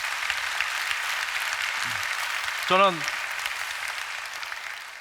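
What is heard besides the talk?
congregation applauding in church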